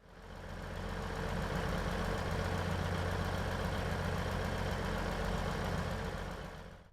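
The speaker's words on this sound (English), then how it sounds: "The Cummins engines don't sound too bad in game" A steady Cummins diesel train engine in Train Sim World 3 drones at an even pitch, fading in and out at the edges with no other sounds.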